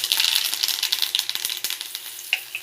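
Mustard seeds sizzle and pop in a teaspoon of hot oil for tempering a tomato chutney, a dense close crackle with sharp spitting pops scattered throughout.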